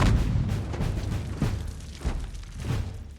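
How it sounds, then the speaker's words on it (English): Cannon fire from a Revolutionary War battle scene in the film The Patriot: several deep booming thumps spaced about a second apart, over a continuous low rumble of battle noise. "Getting pretty close to firing those cannons at their own people."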